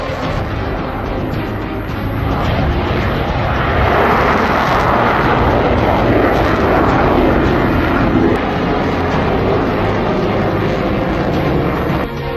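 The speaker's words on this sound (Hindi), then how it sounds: "राफेल के थर्रा देने वाले शोर से चीन की चिंता बढ़ गई है" A Rafale fighter jet passes overhead with a loud, continuous engine roar that swells in the middle and stays heavy throughout, with no voices over it.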